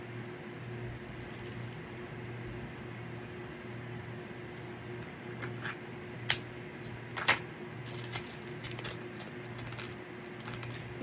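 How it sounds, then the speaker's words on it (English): An electric fan runs in an indoor room where an air conditioner cannot be fitted, giving a steady low hum throughout, with occasional light clicks and taps near the microphone. "You can hear my fan running in the background."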